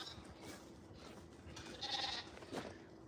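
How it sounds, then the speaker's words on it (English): Goats on a homestead bleat in a short call or two over a steady background murmur, moderately near and not very loud. "Here's some of the goats. Hello, goats."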